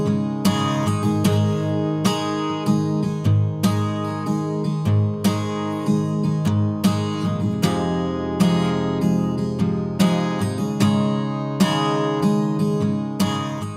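Music recording squashed by heavy FET compression with slow attack, rhythmic guitar and drum hits smeared into a dense, flattened wall of sound, loud and steady with no voices.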